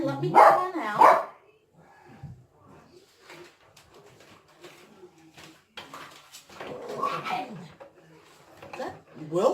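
A dog barks in short loud bursts indoors during pressure canning of chicken, with a couple of yelps at the start and more near the end, while someone talks between them.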